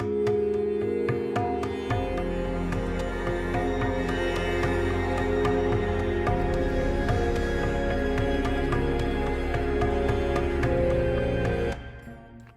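Meditative percussive tones from the Fracture Sounds Zen Meditations library ring out in layered, sustained resonant hits with a deep low drone, evolving steadily for about twelve seconds before fading abruptly near the end.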